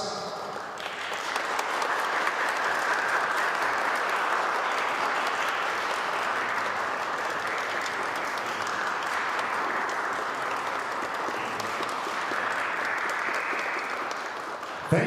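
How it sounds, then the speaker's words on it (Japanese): A large audience at a badminton exhibition event in Japan applauds medical workers, producing a sustained, dense wash of clapping that holds steady and loud from start to finish. "Please join us to send them a round of applause to express our gratitude"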